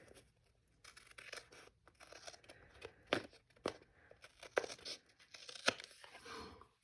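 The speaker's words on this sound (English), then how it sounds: "Now I'll get my scissors and I'll trim this." Scissors trim paper for lace spool cards with a run of close, crisp snips and crinkling rustles that come in irregular bursts.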